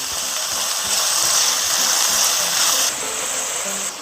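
Onion and green onion stir-frying in a pan for japchae, a steady loud hiss and sizzle that runs unbroken throughout, with a faint rattling underneath.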